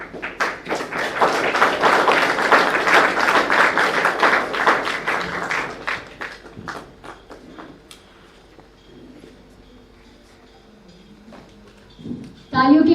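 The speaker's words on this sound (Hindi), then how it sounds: "तालियों की गड़गड़ाहट कम नहीं होनी चाहिए।" Audience applause at an NCC Vijay Diwas ceremony in Patna honouring 1971 war martyrs: dense, loud clapping for about six seconds that thins into scattered claps and then quiet, with a burst of noise at the very end.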